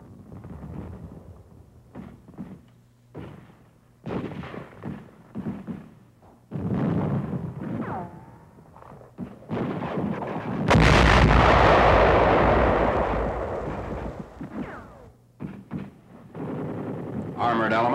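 Rapid 20mm cannon fire from a Nazi garrison sweeps the streets during the WWII battle for Aachen. Bursts and shots sound repeatedly, building to a loud sustained roar of gunfire midway.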